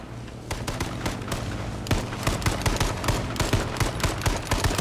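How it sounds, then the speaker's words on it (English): Rapid gunfire in the battle royale game H1Z1, with dense, loud bursts of shots cracking in quick succession over a constant rumbling background, continuing throughout without pause. "Go first person and shoot"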